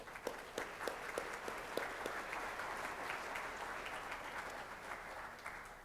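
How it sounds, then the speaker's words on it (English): A room full of people applauding at a State of the City address, dense steady clapping at moderate distance that holds evenly and tapers slightly toward the end. "Let's give him an applause."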